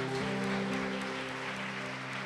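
A church congregation claps over sustained organ or keyboard tones, the applause a faint, diffuse patter mostly buried under the music.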